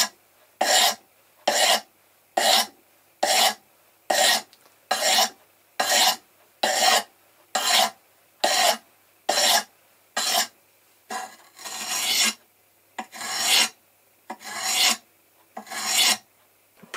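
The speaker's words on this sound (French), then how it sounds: "Ça montre que vous êtes en train d'enlever de la matière de votre couteau et donc de l'aiguiser." A kitchen knife drawn repeatedly across a whetstone, about twenty steady rasping strokes in an even rhythm, close and clear with short pauses between each pass and no talking.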